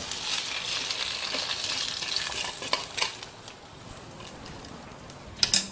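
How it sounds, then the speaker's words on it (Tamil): Ivy gourd pieces dropped into boiling gravy in a pan, a steady sizzling bubble with stirring scrapes and a few sharp clinks of a utensil against the pot, close and moderately quiet. "இந்த கோவக்காயை எடுத்து அதில் போட்டுக்கலாங்க"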